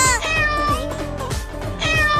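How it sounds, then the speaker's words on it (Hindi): Three cats meow loudly and insistently, their high wavering cries overlapping one after another at close range. "ये तीनों बिल्लियाँ मुझे काटने के लिए दौड़ा रही हैं"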